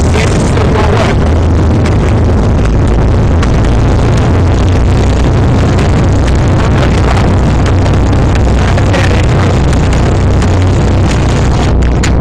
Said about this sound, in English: As the submarine increases in speed, the engine's going to roll over.